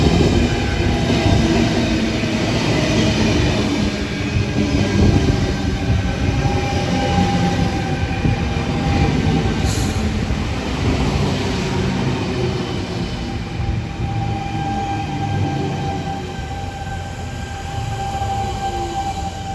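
A Sydney Trains C set electric train, a four-car set from the mid-1980s, rolls past at Petersham during the morning peak with a loud, continuous rumble and wheel noise that holds steady before easing slightly toward the end.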